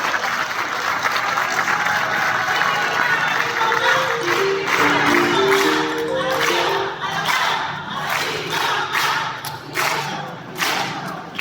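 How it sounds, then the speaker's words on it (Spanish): A crowd at a community event honouring a teacher gives sustained, loud applause with some cheering and scattered thuds. A brief tonal sound rises through the middle of the clapping, and the applause thins toward the end. "Brindémosles fuertes y calurosos aplausos"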